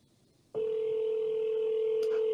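A steady telephone tone starts after half a second and holds unbroken to the end, loud and close with faint background noise, likely a call connecting on a line.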